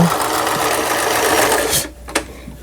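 A freshly repaired Riccar 5302 sewing machine runs smoothly with a steady, close mechanical whir for about two seconds, then stops, leaving a brief click.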